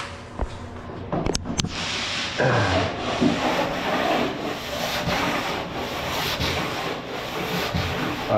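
A painter sands a wall by hand, giving a steady, close, rough scraping that runs almost continuously with brief breaks and no talk over it.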